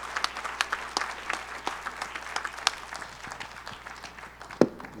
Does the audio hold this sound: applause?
yes